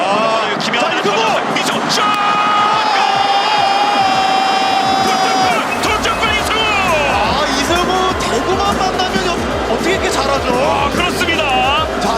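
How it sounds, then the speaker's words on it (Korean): Home fans of Daegu FC at a football stadium keep up loud, continuous cheering and chanting, with horns and whistles rising above the roar and commentators talking over it. "홈팬들의 환호성을 그대로 느껴보면서"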